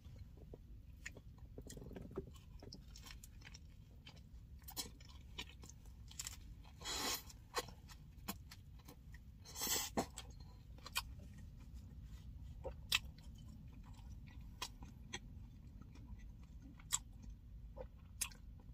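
Eating a Taco Bell cheesy gordita crunch, close crisp crunches and wet chewing in an irregular rhythm, with sharper bites standing out against quiet background, and no talking.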